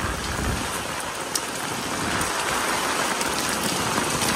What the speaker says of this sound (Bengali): বৃষ্টি মারাত্মক পড়ছে।